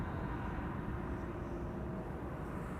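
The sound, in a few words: KLM Boeing 777-300 at Amsterdam Schiphol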